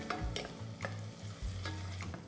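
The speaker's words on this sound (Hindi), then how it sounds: "हल्का सा भूनेंगे बस 30 सेकंड के लिए।" Grated ginger and whole red chillies dry-roast in a pan, giving soft scraping stirs and a light sizzle in short repeated strokes, fairly quiet and free of talk.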